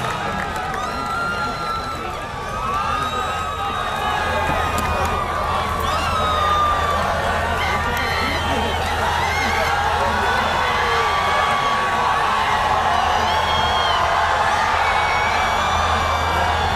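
A large university hall audience applauds and cheers loudly as former prime minister Imran Khan is welcomed, with dense sustained clapping, whoops and shouts throughout and an announcer's voice over the roar.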